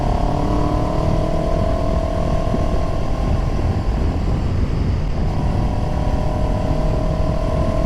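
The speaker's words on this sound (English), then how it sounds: "I hope you can hear the bark of this exhaust as we push on a bit here." CF Moto 700 CLX motorcycle on the road with its exhaust barking as it accelerates, a steady loud engine drone with rising tone held throughout, heard from the rider's position under wind noise.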